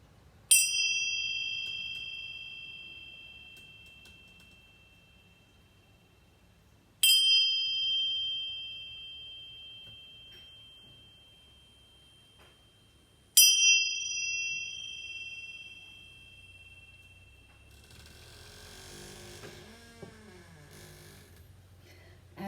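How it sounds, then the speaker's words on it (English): Chimes are struck three times, several seconds apart, each a bright ringing tone that slowly decays to quiet, followed by soft shuffling and rustling. "I'm just going to clear our collective energy with these chimes"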